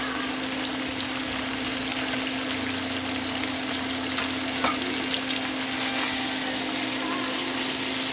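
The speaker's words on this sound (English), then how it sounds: "put in the sliced onions, and I'm going to saute them very, very lightly" Sliced onions for French onion soup sauté in a hot pan, a loud dense continuous sizzle with a steady low hum beneath and a faint clink or two.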